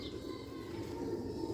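Sialkoti pigeons cooing softly and continuously, a low murmuring coo heard close by with no other sounds.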